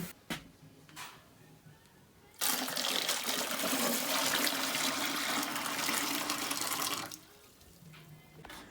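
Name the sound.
water poured from a container into boilers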